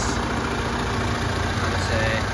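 A 2.8 litre turbo diesel engine in a 2019 Toyota Prado GXL idling steadily, a constant low rumble heard up close with someone talking over it.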